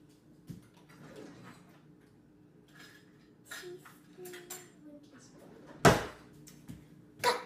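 A teaspoon and a bowl being fetched in a kitchen for an Easy-Bake Oven pretzel dough mix: faint scattered clinks and knocks of dishware and cutlery, ending in two louder clanks, against a quiet room with light background sounds.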